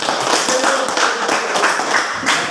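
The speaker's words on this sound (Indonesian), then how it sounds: "tepuk tangan untuk kelompok 3" A classroom group applauds group 3, giving close, lively clapping in a loose rhythm from several people, with a few sharp separate claps standing out.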